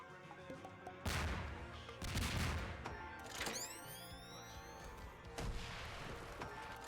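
Grenade explosions in Garry's Mod crash out as four loud booming blasts a second or two apart, each with a rumbling tail, over continuous game noise and a brief rising whistle.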